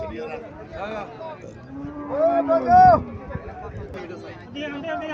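A cow moos once, a long low call rising in the middle, with people chatting in the background before and after; the cow is near a Sahiwal bull calf.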